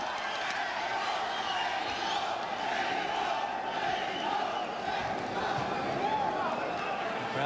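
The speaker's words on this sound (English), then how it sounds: "Crowd chanting early here, Mexico, Mexico for Barrera." A large boxing crowd roars and chants "Mexico, Mexico" continuously, a dense sustained wall of voices echoing through an arena, steady and loud throughout.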